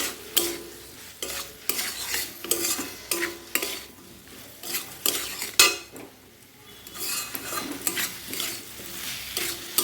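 Fried bitter gourd and drumstick being stirred into a masala in a pan, repeated spatula scrapes and clanks against the metal in an uneven rhythm over a low frying sizzle, close up with no talking.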